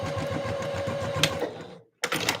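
A domestic sewing machine stitches a Christmas dress with a steady, close mechanical whir. It halts abruptly near the end, and a short burst of other handling noise follows.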